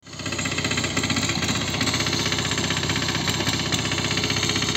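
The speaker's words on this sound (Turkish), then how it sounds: "sürme işlemi devam ediyor. Boşta traktör bulamadığımız için büyük bir çapa motoru bulduk." A large motor hoe tills garden soil, its engine chugging in a fast, steady, rattling pulse that sets in abruptly and then runs loud and close without letup, with no voices heard.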